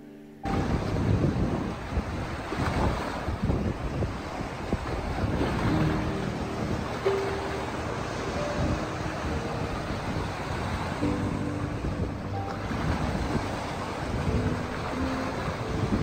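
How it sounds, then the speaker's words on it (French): Strong wind buffets the microphone in a steady, roaring rush under a grey sky near small pebble beaches, lasting throughout, with a low rumble and no voices. "le vent prend encore un peu de force sous un ciel devenu gris et terne"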